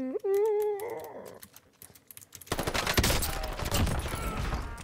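An SMG with a burst barrel fires in Warzone, with rapid clattering shots over loud game effects after a brief tonal sound at the start.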